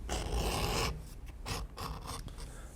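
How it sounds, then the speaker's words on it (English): An edge beveler scrapes along the edge of a leather strap for chaps, a close, quiet rasping in a long opening stroke followed by several shorter pulls, with no voices. "For the back connector strap, I will edge bevel both the top edge and the bottom edge"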